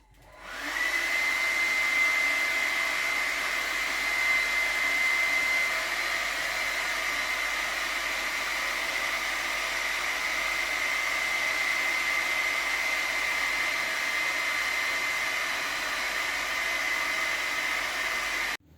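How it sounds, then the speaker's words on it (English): An air blower runs steadily with a loud, continuous whooshing hiss for the whole stretch, keeping a light ball floating in a tilted tube, then cuts off abruptly at the end. "Tilting the blower or the tube is not making the ball to fall as it wants to stay in a low pressure zone."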